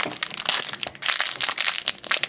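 Plastic packaging on a Shopkins toy lunchbox crinkles and rips in quick, uneven bursts close up as a tear strip is pulled, a busy run of sharp crackling tugs with no voices.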